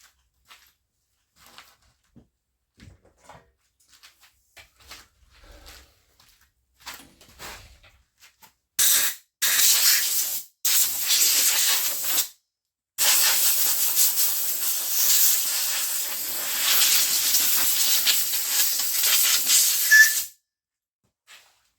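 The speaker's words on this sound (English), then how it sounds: "Now we're going to grab the air hose and blow that off." An air hose blows oil debris off an old self-propelled mower in loud, close hissing blasts, two short bursts and then a long continuous stream, after several faint taps.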